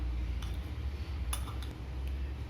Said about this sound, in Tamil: நல்லா மிக்ஸ் பண்ணி விட்டுக்குவோம்